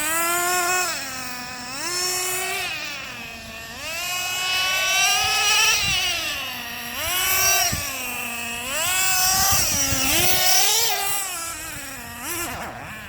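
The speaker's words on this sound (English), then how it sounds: "Let it idle and not be revving it up while you run it out of gas" A Traxxas Revo 3.3 nitro RC truck engine idling close by, a buzzy, wavering high-pitched drone that surges and sags in pitch, running unsteadily as it runs out of fuel.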